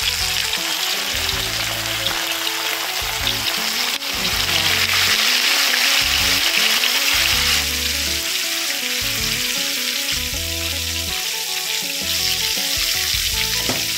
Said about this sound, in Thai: จะทอดในน้ำมันที่ค่อนข้างร้อนนะคะ